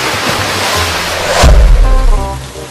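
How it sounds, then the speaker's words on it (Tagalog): Heavy rainwater gushes from a roof gutter in a loud, steady broadband roar that swells midway as the flow thickens, close and with no talking. "Malakas ang buhos dito guys ng tubig mula sa alulod"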